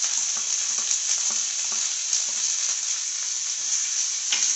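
Chopped onion sautés in a hot pan with a constant, close sizzle, broken up by repeated scraping strokes from a stirring spoon.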